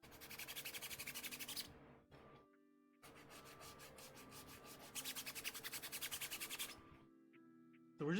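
Plastic cosplay armor being sanded by hand with sandpaper: rhythmic, close scraping strokes in two long bursts, with a short pause and some lighter handling noise between them, no voices.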